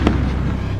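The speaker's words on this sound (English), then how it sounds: "Sergeant, fire a flare from the launcher on the roof." Flare fired from a roof launcher in Call of Duty Modern Warfare (2019), a single sharp pop followed by a short fizzing hiss over rumbling battlefield ambience.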